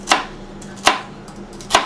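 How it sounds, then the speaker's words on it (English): Three sharp knife chops through celery on a cutting board, evenly spaced about three-quarters of a second apart, close and crisp with no talking. "we want to start chopping up our clean celery."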